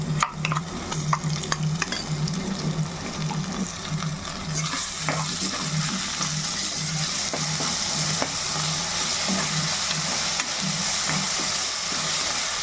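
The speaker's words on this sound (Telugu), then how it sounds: "ఈ మసాలా పచ్చివాసన పోయేదాకా మనం ఇలా వేసుకోవాలండి" A fresh ground spice paste of cinnamon, coriander seed, cloves and cardamom fries in a pan with steady, close sizzling and repeated scraping stir strokes throughout, with no talking.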